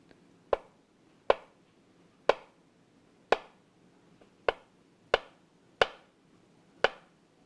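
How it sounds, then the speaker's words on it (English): A knife slices a peeled vegetable into thin slices for vegan sushi, giving eight crisp, separate chops on a board at an uneven pace, close and clear over a quiet background. "And then cut it into thin slices as well."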